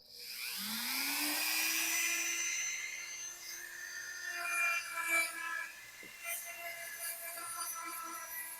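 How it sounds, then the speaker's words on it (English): Dremel rotary tool spinning up into a high whine and drilling into wood, a steady loud buzzing tone with shifting harmonics and small bursts of grinding as the bit bites, close by. "Well, I've got my Dremel tool."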